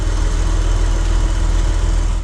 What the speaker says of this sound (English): the spot where you can hear the engine working